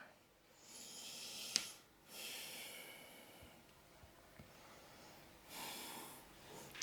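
Slow breathing in and out during a yoga flow, soft airy breaths close to the mic with a few faint snorts and quiet gaps between them.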